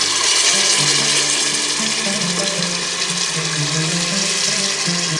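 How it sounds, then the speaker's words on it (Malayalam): One litre of hot water pours into a cooking pot in a loud, continuous splashing rush with a faint shifting tone, close and steady throughout. "1 ലിറ്റർ വെള്ളം ഞാൻ ഇതിലേക്ക് ഒഴിച്ചു കൊടുക്കുന്നുണ്ട്"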